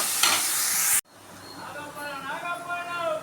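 Onions sauté in a pan for chicken gravy: a loud frying hiss with stirring cuts off abruptly, then a quieter crackling sizzle builds back up while a voice is faintly heard.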